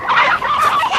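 Chickens clucking in the 1987 film Angel Heart, a short burst of close, loud, agitated hen clucks and squawks lasting about a second.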